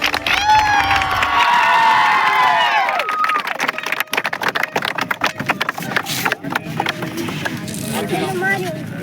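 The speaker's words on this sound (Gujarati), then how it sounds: "તાળી પાડો" Crowd at a village cricket tournament trophy ceremony, loud cheering and shouting with a tonal call at first, giving way to scattered sharp claps and crowd noise.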